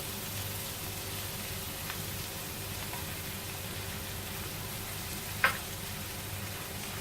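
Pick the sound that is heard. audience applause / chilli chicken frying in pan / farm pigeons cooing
chilli chicken frying in pan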